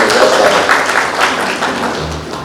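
Applause for event organizers rises from an audience in a brief burst of dense clapping that fades slightly toward the end.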